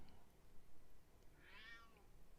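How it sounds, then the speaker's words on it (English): A house cat lets out a single short meow in a quiet room, faint and somewhat distant, over a low background hum. "Our cat Chester says hello."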